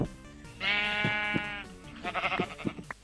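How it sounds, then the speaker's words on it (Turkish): A Minecraft sheep bleats loudly and long, then gives a few shorter, wavering bleats close by. "Ha koyun koyun lazım bize koyun."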